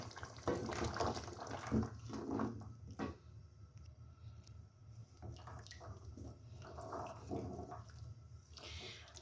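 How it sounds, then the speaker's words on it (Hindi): Water is poured into a pot of mutton paya being cooked desi style, a faint splashing and gurgling that comes in uneven bursts with quieter gaps, heard close and alone. "अब इस मौके पे हम क्या करेंगे, इसके अंदर 6 ग्लास पानी डालेंगे।"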